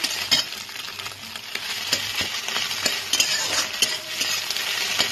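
Egg stirred and fried in hot oil in a pan for a ridge gourd dish, steady close sizzling with repeated sharp scraping and tapping strokes of the spatula throughout, no talk.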